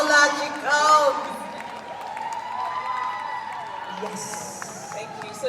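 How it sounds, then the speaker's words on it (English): An audience claps and cheers to welcome a guest at a talk event, the applause swelling loud at first then settling into steady clapping with whoops, while a voice speaks over it. "A round of applause."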